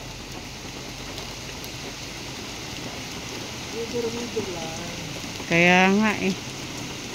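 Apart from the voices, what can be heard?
intermittent rain showers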